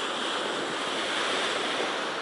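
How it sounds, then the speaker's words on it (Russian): Sea waves crash and wash against the shore in a dense, continuous roar with some wind buffeting, loud and near, with no voices. "Видите, какой гребень волны?"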